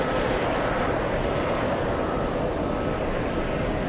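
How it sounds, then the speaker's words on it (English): Unusual aircraft at JFK airport whose engines rumble like a passing train, a dense, continuous broadband roar at steady loudness with no talking. "It's a plane that sounds like a train."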